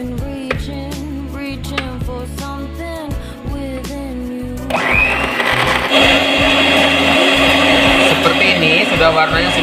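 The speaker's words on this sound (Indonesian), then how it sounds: "Sekarang kita waktunya matikan mixer." A loud electric mixer beating Lapis Surabaya cake batter whirs steadily, its motor droning and rising in pitch partway through, with faint clinking before it speeds up.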